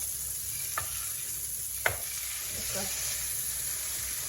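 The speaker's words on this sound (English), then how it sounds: "We're going to lower the heat down and we're going to add in one of our lamb steaks." A lamb steak fries in a hot pan on lowered heat, giving a soft, steady sizzle. Two or three faint utensil taps land over the hiss.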